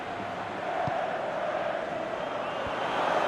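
A stadium crowd in a football video game, a constant broad roar of cheering and chanting at moderate loudness, with a commentator's voice over it.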